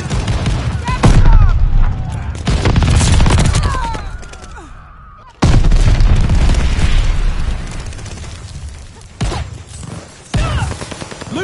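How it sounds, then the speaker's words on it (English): A friendly bombing run in a video game lands as a string of loud, close booms and rumbling blasts, with bursts of rapid gunfire, a sudden heavy hit near the middle and sharp cracks toward the end. "Friendly bombing run on the way."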